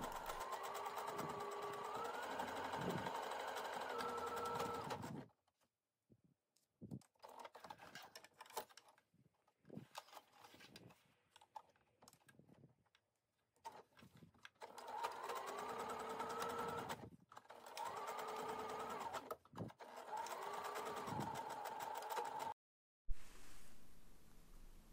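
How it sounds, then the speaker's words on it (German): A sewing machine stitches a reversible fabric bag in two long runs of steady motor whirring, near and clear, separated by a quieter stretch of handling noises. "Und dann nähe ich das dort und hier vor und hinter der Wendeöffnung zusammen."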